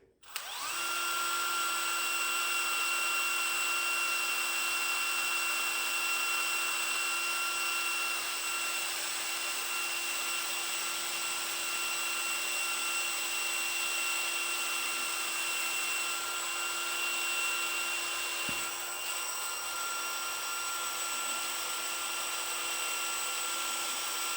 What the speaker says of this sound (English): I just have this drill on low